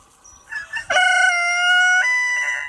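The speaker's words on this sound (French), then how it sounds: "Eden, notre coq bleu." A blue Brahma rooster crows loudly nearby, a long drawn-out cock-a-doodle-doo with a strained, ringing tone, preceded by a few short clucks.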